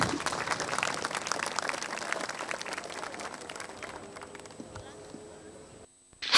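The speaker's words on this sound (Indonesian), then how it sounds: "Boleh kasih tepuk tangan." Studio audience of a TV talk show applauding, a dense clapping wash that slowly fades over several seconds before a brief gap and a sudden new sound at the end.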